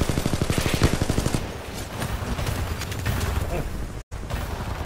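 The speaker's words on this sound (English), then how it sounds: "Oh, bullets." Rapid bursts of automatic gunfire in a multiplayer shooter game, a dense rattling volley loud at first, then thinning into scattered shots with a brief dropout near the end.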